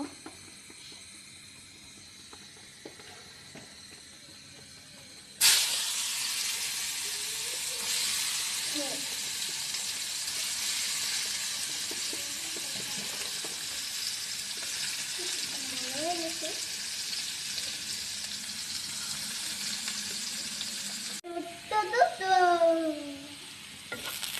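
Chopped onions for birista sizzle in hot oil in a home kitchen, a steady loud frying hiss after a quieter start, with occasional stirring and a voice chattering near the end.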